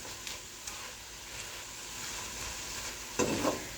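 Spinach fries with mixed vegetables in a pan for a lasagna filling, a soft continuous sizzle with a few light stirring scrapes and a louder clatter near the end.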